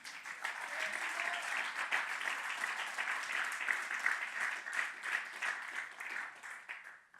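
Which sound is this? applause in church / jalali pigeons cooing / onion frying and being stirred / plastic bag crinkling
applause in church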